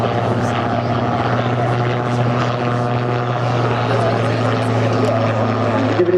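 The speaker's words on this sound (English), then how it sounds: "it is the Air Total Calidus Autogyro" An Air Total Calidus autogyro flies a display at a seaside air show in Clacton-on-Sea, its propeller engine droning steadily and loud throughout at fairly close range.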